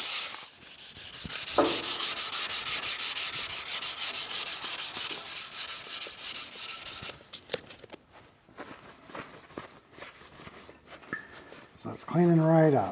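Metal being hand sanded with 400 grit sandpaper in a shop, a loud steady scratchy rubbing for about seven seconds, then lighter intermittent strokes and handling noises, with a voice briefly heard near the end.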